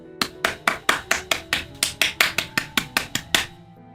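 Two people clapping in a steady, even rhythm: about fourteen sharp, close claps over roughly three and a half seconds, then silence.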